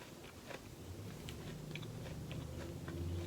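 A person bites into and chews a crunchy apple up close, a series of quiet crisp crunches and wet chewing sounds repeating irregularly against low room noise.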